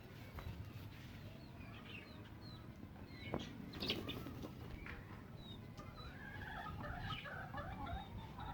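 Hens clucking among chicks in a backyard coop where rabbits and pigeons are also kept, with steady low clucks and scattered chirps throughout and a louder flurry of calls near the middle.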